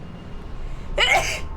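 One sharp, close sneeze breaks through steady low background noise during a Dark Souls 2 gaming session, a brief explosive burst that fades within half a second.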